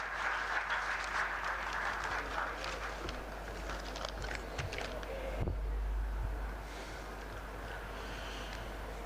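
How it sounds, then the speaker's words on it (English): Applause at a university chemical engineering jubilee welcoming a professor of engineering and technology to the dais: a broad wash of clapping, fairly distant and even, that thins out after the midpoint, leaving a low steady hum. "So can we have a very big round of applause"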